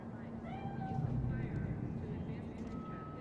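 A cat meows in the video game Cyberpunk 2077, a short, wavering cry heard faintly under a steady game ambience, with people talking over it.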